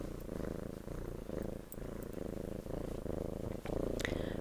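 A pet cat purrs while held in someone's arms, a steady, close, continuous rumble pulsing softly with each breath, with no talking over it.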